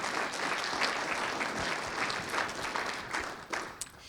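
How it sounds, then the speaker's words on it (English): An audience at a community conversation on homelessness claps for the event organizers, a steady, fairly soft wash of applause that thins out toward the end. "So let's give a round of applause to those who made today possible."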